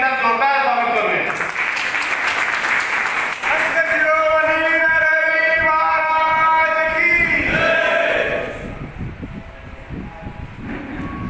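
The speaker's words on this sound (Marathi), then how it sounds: "सर्वांनी या महिलांचं टाळ्या वाजवून एकदा जोरदार स्वागत करूया" Sustained applause from an audience welcoming a group of women at a devotional gathering, a dense wash of clapping mixed with voices and a sung or chanted tone, thinning toward the end.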